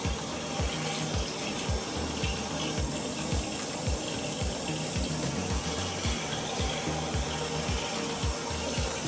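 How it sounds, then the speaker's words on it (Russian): Steady broadband rush of running water, like a tap pouring into a sink, with a faint regular ticking pulse underneath throughout. "И приходится нам укачивать под шум воды."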